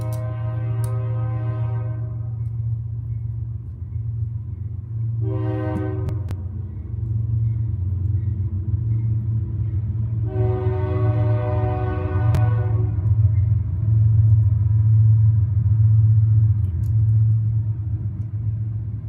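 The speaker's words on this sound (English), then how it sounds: "Go away, stupid train." A train rumbles steadily past, heavy and continuous, while its horn blasts three times, the first and last blasts long and the middle one short, loud and fairly close.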